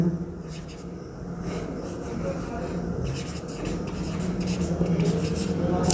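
Scratchy, continuous strokes of writing on a board during a Class 10 chemistry lesson on metal extraction, steady and close for the whole span, with faint room noise beneath.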